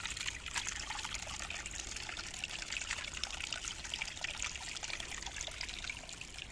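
Cold, clear spring water trickling out over a concrete dam bridge, a steady soft hiss of running water throughout, faint and continuous with no talking.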